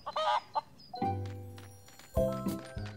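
A few short clucks from a cartoon chicken, followed by two sustained, tonal hen-like calls with a brief gap between them, fairly close and clear.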